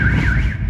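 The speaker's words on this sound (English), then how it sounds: "There's a big alarm going." Loud electronic alarm at a Mexico border crossing, a warbling siren tone sweeping up and down, close and continuous for the whole short stretch.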